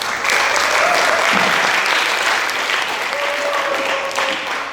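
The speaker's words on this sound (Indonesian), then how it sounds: "Jadi tepuk tangan" Audience applause at a stage performance, a dense, sustained clapping from a crowd that stays loud throughout and eases only slightly toward the end.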